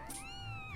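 A cat meows in the video game Skyward Sword, a single drawn-out, rising and falling cry heard up close and alone, with a soft hum beneath.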